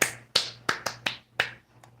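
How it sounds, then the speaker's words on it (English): Six sharp hand claps in an uneven rhythm, close and fairly loud, each a crisp broadband snap with a short decay, alone without speech, over a faint steady low hum. "I don't know why I'm clapping"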